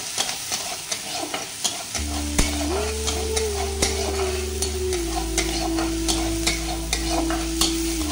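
Chopped onions frying in a hot pan for a banana-peel curry, a bright continuous sizzle with a regular series of spoon scrapes and taps as they are stirred, over a steady low hum.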